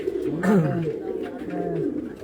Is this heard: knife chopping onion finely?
no